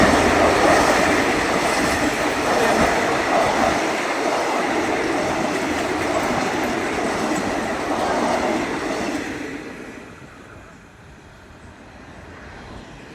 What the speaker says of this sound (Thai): รถไฟมาแล้วพี่น้อง